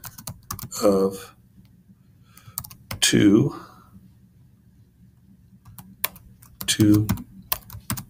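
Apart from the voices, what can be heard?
typing on a computer keyboard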